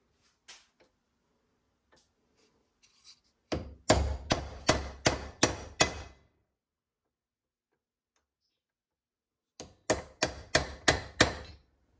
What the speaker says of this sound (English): All you need, obviously, is a stake punch and a hammer. So I'm going to stake it and remove this play out of this shaft.